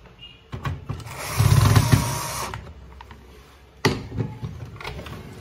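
The final casing screw going into a Samsung M2020W printer during a laser unit replacement, with short close mechanical whirring bursts from a small screwdriver or tool and a brief click near the end.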